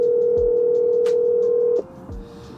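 A phone call's steady ringing tone hums loudly and continuously, then stops abruptly, leaving a faint room background with a couple of soft clicks.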